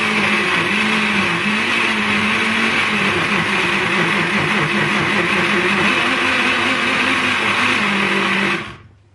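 A kitchen blender whirs loudly and steadily, blending a sauce thinned with cold water, its motor tone wavering slightly before cutting off abruptly near the end; no voices.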